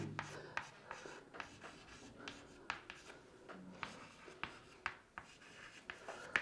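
Chalk or marker strokes on a board during a chemistry lesson come as quick scratchy taps and rubs in an irregular rhythm. The writing is close and fairly quiet, with no speech over it.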